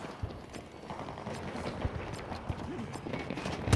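Footsteps in the shooter Battlefield 2042 come as a run of soft, quick thuds under low game noise and faint voices.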